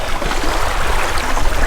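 Someone wades into a cold glacial lake from a beach on Alaska's Kenai Peninsula, with continuous close water splashing and churning throughout.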